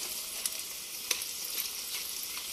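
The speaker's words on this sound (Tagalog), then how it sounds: "Balibalik na rin mo lang para mag-brown yung ano, tokwa na naka-cubes." Cubed tofu frying in butter in a pan, a steady broad sizzle with a few soft clicks and pops, close and even, no talk.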